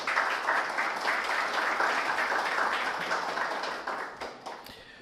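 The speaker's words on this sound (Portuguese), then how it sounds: "Vamos saudá-lo com uma salva de palmas, por favor" Sustained audience applause in a hall at a theology lecture event, dense steady clapping from many hands that slowly thins toward the end, with no talk over it.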